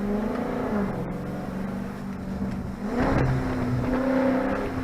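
Engine of a Dodge Charger Daytona 392 rising and falling in revs through repeated upshifts and downshifts, a loud, steady mechanical drone with a swell near the end, close up and with no talking.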